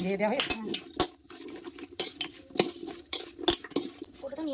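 Food being stirred and mixed in a pot for a home cooking ritual, with a utensil scraping and knocking against the metal sides in repeated sharp clinks, close and moderately loud.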